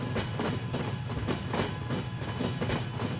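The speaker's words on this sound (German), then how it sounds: "Man hört im Prinzip nur das Rattern der Schienen, also der Räder, die auf den Schienen sind." Train wheels in the game Transport Fever rattle over rail joints at about 246 km/h in a fast, steady clickety-clack rhythm, loud and close, with a constant rumbling drone underneath and no voices.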